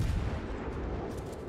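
Heavy guns on the warship Hindenburg in World of Warships fire high-explosive shells, giving a short, loud, deep boom that rumbles on without a break for under two seconds.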